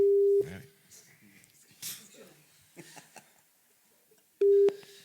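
Telephone line tones on a radio call-in broadcast: a steady ring tone at the start, then another short ring burst near the end, with sparse talk and breathing in between.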